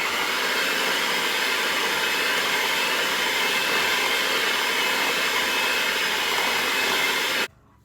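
An electric mixer blends orange cake mix into a stiff cookie batter, giving a loud, steady whirring drone that runs unbroken for several seconds and then cuts off abruptly.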